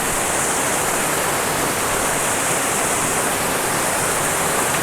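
Waterfall at Mugarpir in Kanrach, Balochistan, pouring into a small pond, a loud, steady broadband rush of falling water filling the whole stretch without pause.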